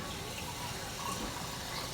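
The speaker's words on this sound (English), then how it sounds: "This fridge makes water off the side of the fridge." Water streams steadily from a refrigerator's side-mounted dispenser into a glass, a continuous close pouring rush with no voices over it.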